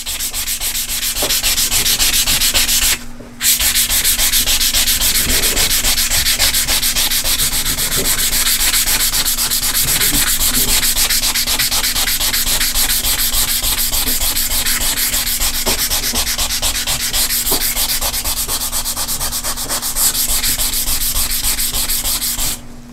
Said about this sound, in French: je vais commencer à frotter la surface de cuivre